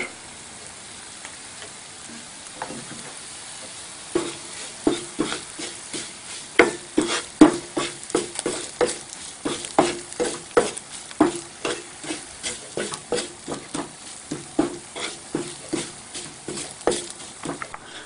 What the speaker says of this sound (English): After we add coriander powder, it takes about 30 seconds to fry